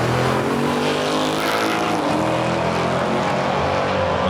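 Loud, continuous drag racing car engine roar, a dense harmonic growl that holds steady and shifts pitch slightly midway, with no speech over it.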